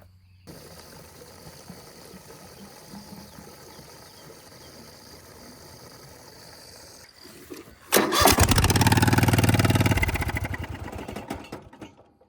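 An old tractor engine that leaks oil chugs at idle with a rough, rattling rumble, then suddenly roars much louder for about two seconds before dropping off and fading as it shuts down.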